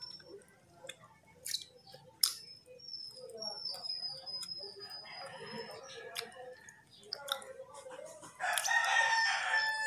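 Rooster crowing outdoors in the morning, a few crows and clucks that are fairly faint and spread across the clip, mixed with other birds and scattered background noise, and people talking quietly.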